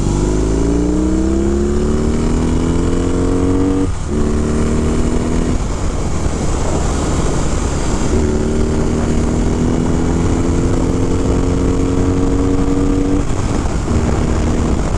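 A 2022 BMW R18 1800cc cruiser motorcycle engine roars loudly and steadily while riding, rising in pitch through repeated accelerations with brief dips between gear changes, constant wind rush over it.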